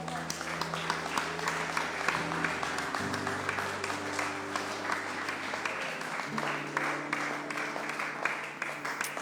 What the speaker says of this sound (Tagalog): Pwede po kayong pumalakpak.